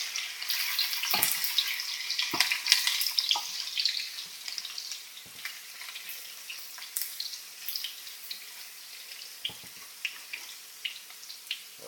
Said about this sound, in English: Stir them, make sure nothing's sit too long in the middle.